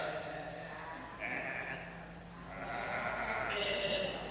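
People at a spontaneous nativity play imitate sheep bleating, several wavering baa calls overlapping one after another, moderately close in a room, swelling toward the end.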